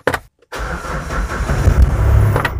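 A Mahindra Bolero engine cranks briefly, pauses, then starts and settles into a loud, steady running rumble close by.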